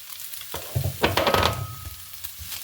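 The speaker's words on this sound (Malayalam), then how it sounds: "എല്ലാം കൂടി ഒന്ന് മിക്സ് ചെയ്ത് യോജിപ്പിച്ചെടുക്കാം" Mashed fish and smashed potato being stirred together in a bowl for fish cutlets, a few soft squelching, scraping strokes close by with no talk.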